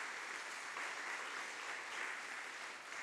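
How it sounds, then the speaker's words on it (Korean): A church congregation applauds steadily for newly appointed deacons during a Sunday worship service. The clapping is soft and distant, holds evenly for the whole stretch and has no talk over it. "우리 박수로 함께"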